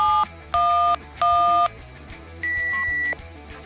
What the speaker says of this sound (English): Once you enter the site code, you should hear a short tone indicating you're now linked with the 674 repeater.